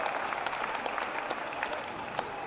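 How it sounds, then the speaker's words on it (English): An audience claps warmly at a pasty crimping contest at the World Pasty Championships, a dense, steady round of applause from a moderately sized crowd with scattered sharper claps, without speech. "big round of applause for that, ladies and gentlemen"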